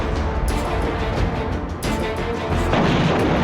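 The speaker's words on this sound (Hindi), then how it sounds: "तभी आईडीएफ ने हमला किया और मिसाइल ने उसकी खिड़की को तोड़ दिया।" A missile strike hits near a house and breaks a window: a heavy, sustained rumbling blast with crashing noise and a second surge partway through, loud and close.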